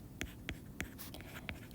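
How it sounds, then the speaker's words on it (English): Someone handwrites a short note while working a subtraction of mixed numbers. A few distinct pen or pencil strokes tap and scratch against paper in a quiet room, close and fairly faint. "I'm going to go ahead and just write this as a note."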